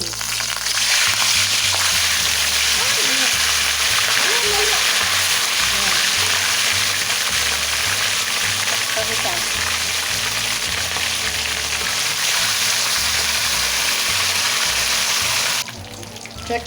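Pork for lechon kawali frying in a pan, a loud, dense, continuous sizzle heard up close that drops off abruptly near the end.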